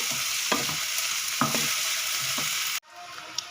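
Onions with ginger-garlic paste frying in a pan, a steady close hiss with a few scraping stirs of a spoon before the sizzle suddenly cuts down near the end.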